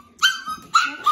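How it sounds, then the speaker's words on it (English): Puppies let out three short, high yips and whimpering barks in quick succession, heard close and loud with no talk. "there are five puppies over here"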